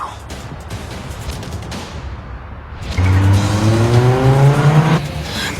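Cars chase through traffic in the Yakuza 0 video game, with a steady road roar that swells into a loud, rising engine whine from about three seconds on, holding strong to the end.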